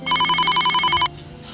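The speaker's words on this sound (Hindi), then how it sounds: "किसी का फोन आ गया।" A phone ringtone sounds close and loud as a rapid pulsing electronic trill for about a second, then stops, leaving a quiet room.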